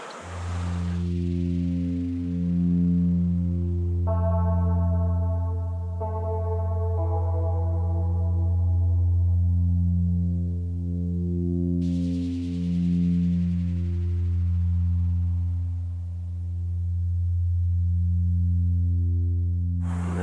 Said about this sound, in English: You can hear the sound of them rushing away, the air moving past the turbine blades.